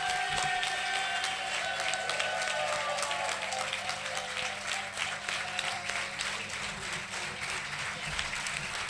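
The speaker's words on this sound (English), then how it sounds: "Let us give them a thunderous round of applause and celebrate together." An audience at a graduation ceremony in Kolkata applauds the graduating batch, a thick, continuous wash of clapping that stays loud and steady throughout, with faint crowd noise mixed in.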